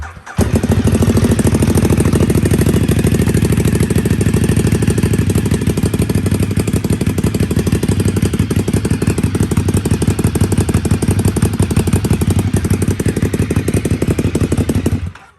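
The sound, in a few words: Ducati Desmosedici 848 race bike engine starting with replica exhaust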